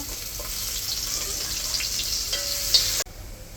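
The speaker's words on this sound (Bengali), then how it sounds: "ফোড়নে দিয়ে দিছে শুকনো লঙ্কা দুটা, এখন রসুন কুচিটা দিয়ে দিব।" Chopped garlic sizzles in hot oil tempered with two dried red chilies, a steady close frying hiss throughout that cuts off abruptly near the end.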